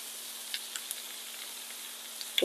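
Cabbage sizzling in a hot pan for a plant-based stir fry: a steady, soft frying hiss with a few faint crackles and a light scrape right at the end.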